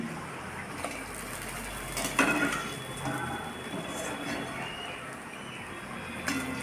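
Urad dal rosbora fritters frying in hot oil, a continuous close crackle and hiss with a couple of brief metal clinks from pans and utensils, no talk.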